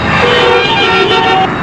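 Car horn toots ring out over loud, continuous road traffic noise in a busy street scene from a Telugu comedy film, the honking sustained and close throughout.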